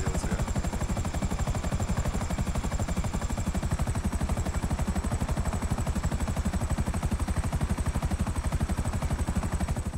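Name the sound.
helicopter landing in video game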